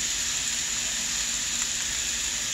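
Pork tenderloin simmering in a pan of sauce seasoned with paprika gives off a steady, even hiss and gentle sizzle that holds at one level throughout, with no talking.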